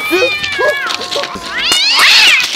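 Several cats meow and caterwaul in overlapping, rising and falling wails, close and loud, building into a drawn-out yowl at the end.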